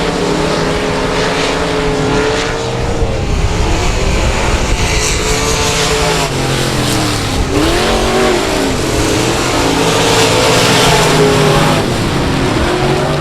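Race cars at South Texas Speedway roar continuously around the track, engines droning and shifting pitch as they pass, a loud steady wash of motor noise with no voices.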